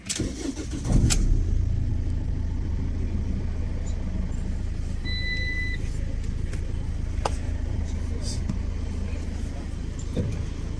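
A Peugeot 1.6 HDi diesel engine cranks and catches, then settles into a steady low idle that runs on throughout, with a few faint clicks above the engine rumble.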